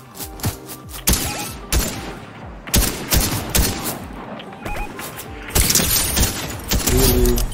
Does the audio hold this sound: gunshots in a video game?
yes